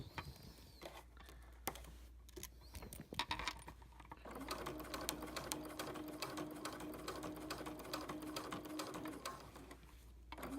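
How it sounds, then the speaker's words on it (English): Sewing machine stitching quilt binding inside the fold, a steady close whirring run after a few short starts and stops, with no talk. "See, now I'm sewing inside the fold."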